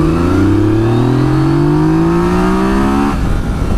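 A 2018 Yamaha Tracer 900 motorcycle accelerates hard in second gear with its A riding mode engaged, engine pitch climbing steadily and loud before the throttle rolls off near the end.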